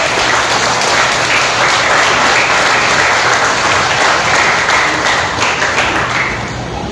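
A church congregation claps loudly and continuously in praise, a thick, close wash of many hands that carries on without pause and eases slightly at the very end.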